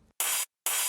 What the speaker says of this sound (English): It was made from a 909 open hat sample.